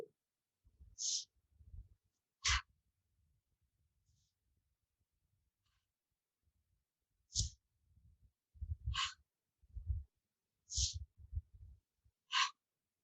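Deep yoga breaths run in slow cycles of inhaling and exhaling, with several airy, close-up breaths separated by pauses and soft movement in between.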